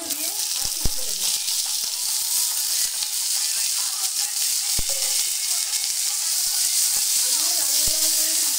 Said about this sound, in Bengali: এর মধ্যে আমি এই শিম আর বেগুনগুলো দিয়ে আর একটু ভেজে নেব।